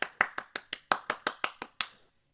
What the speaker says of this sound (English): This may be sarcastic applause, but I'm gonna take it.